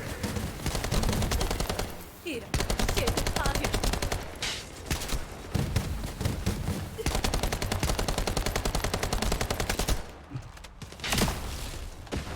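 Sustained video game gunfire in rapid bursts, loud and near, with a few brief pauses between volleys and faint talk mixed in.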